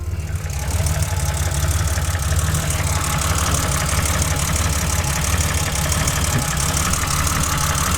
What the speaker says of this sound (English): I'll let you hear the motor running.